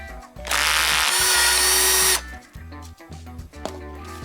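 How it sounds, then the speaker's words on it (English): A power drill backs screws out of a front door speaker panel on a Toyota Century, one loud, close whirring burst of nearly two seconds, followed by softer clicks and handling of parts. "you're going to go ahead and remove these 4 screws"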